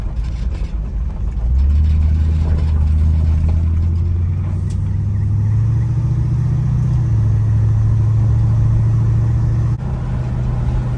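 A big-block 429 cubic inch V8 in an old low-mileage car revs from a dead stop, a loud, deep rumbling drone that climbs and holds steady, close up and alone with no talk.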